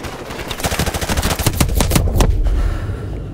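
Rapid automatic gunfire in the Modern Warfare Remastered video game, a dense burst of loud, close shots over about two and a half seconds followed by a rumbling tail.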